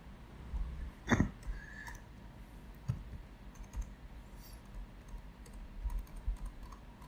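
A loan amount keyed into pawn-broker gold loan software on a computer keyboard, a few quiet scattered keystrokes and clicks in a hushed room, with one louder cluster of taps near the start.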